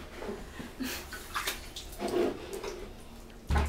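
Close, irregular water splashes and sloshes as a 14-day-old newborn baby is bathed in a tub, with intermittent handling sounds and brief drips.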